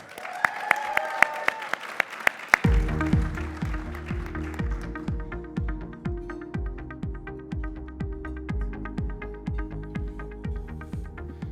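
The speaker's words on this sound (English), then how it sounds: "Join me in a round of applause for the Senior Associate with CBRE, Roman Bernardo." An awards-event audience claps for an honoree at the start, with sharp individual claps over a brief tonal sting. Then a loud rhythmic musical walk-up beat takes over, with regular low pulses and bright repeating hits that run to the end.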